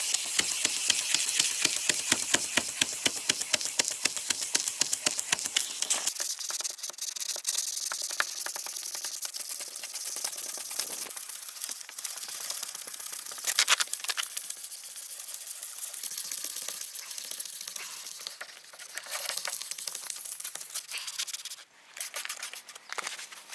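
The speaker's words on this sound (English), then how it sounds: "So the last sandpaper we're gonna use is 2000 from left to right." A car headlight lens is sanded by hand with 2000 grit sandpaper in left-to-right strokes, giving a close, dry scratching hiss. It starts as rapid regular rasps, then turns into a steadier rubbing that continues throughout without speech.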